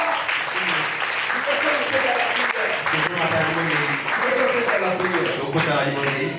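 A church congregation applauding and cheering at an evangelical worship gathering, with sustained crowd clapping mixed with voices and a loud ambient hall sound throughout.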